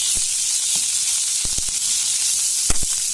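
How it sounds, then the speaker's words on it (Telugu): Mint chutney ground in a mixer gets a hot tempering, making a loud continuous sizzle and hiss with a few sharp pops and stirring clacks close by. "మనం మిక్సీలో పట్టుకున్న ఈ పుదీనా పచ్చడి తాలింపు వేసుకుంటున్నామండి"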